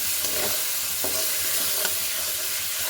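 A steady, loud sizzle of a ground paste of cumin, chilli, ginger, garlic, cinnamon and black pepper frying in a pan, with a few sharp spoon scrapes and taps over the continuous hiss, no voices.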